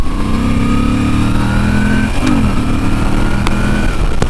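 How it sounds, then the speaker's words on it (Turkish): Moto Guzzi V7 III Carbon pushrod V-twin motorcycle engine running close by, a loud steady throb that briefly dips and rises with a quick blip of the throttle midway, no talking. "Bir de push rotlu bir motor. O tiki tiki tiki tiki sesi duyuyorsun subapların."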